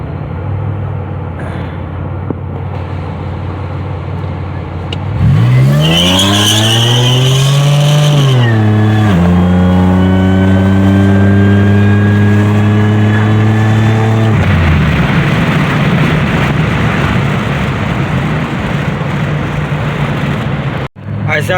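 A red 2007 Pontiac Grand Prix GT pulls up at a stoplight, its engine humming steadily before revving loudly through rising acceleration sweeps, then settling into a rough steady drone, close and prominent with no talk over it.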